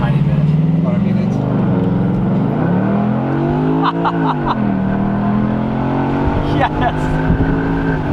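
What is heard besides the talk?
car accelerating hard on the road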